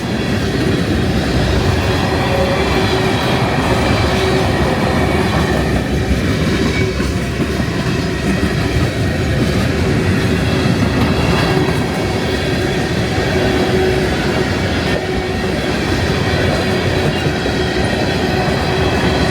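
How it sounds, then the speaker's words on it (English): A freight train rumbles past continuously and loudly at close range, with steady rolling noise, wheel clatter and faint squeals throughout. "I knew this train was coming."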